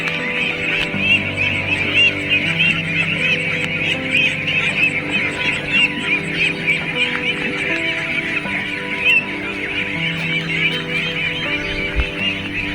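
A crowded flock of ducks honks and quacks continuously at close range in a rural village pen, a dense overlapping chorus of calls with no pauses.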